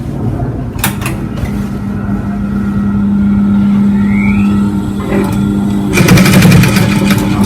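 A sewing machine stitches a sleeve onto an armhole, its motor running as one steady, unbroken hum that swells louder near the end, with no talking over it.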